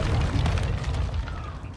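A sticky grenade goes off in Call of Duty: Modern Warfare II, a deep muffled boom rumbling low for the whole moment, with no talk over it.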